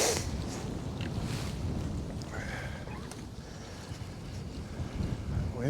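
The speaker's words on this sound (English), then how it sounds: "Wind is vicious." Strong wind buffets the microphone on a fishing boat, a continuous loud rumbling roar with gusty swells and no pauses.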